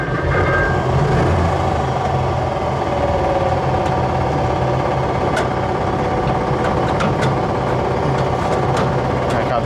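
A WW2 Panzer tank engine runs steadily just after starting, a loud, continuous mechanical drone with metallic clatter and whine throughout, unbroken by speech.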